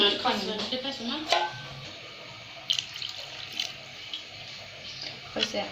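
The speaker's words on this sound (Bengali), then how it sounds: "এখন পানি দেবো আমি পানি দেবো" Water poured into a pot of chicken curry, a splashing gush followed by bubbling and a few short pours and drips, close by, with a voice speaking briefly.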